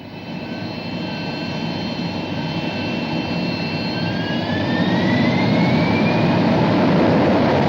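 A Sea Harrier jet flies during a 1982 Falklands War strike. The loud, continuous turbine roar carries rising whining tones and swells steadily louder as the aircraft approaches.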